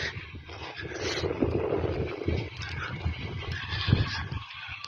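Strong wind buffets the microphone with rough, gusting rumble, while faint honking calls and distant noise sit under it.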